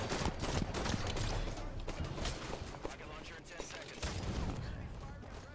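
Assault rifle fire in a Halo match rattles as dense, continuous rapid bursts mixed with other gunshots, loud throughout, with voices talking over the action.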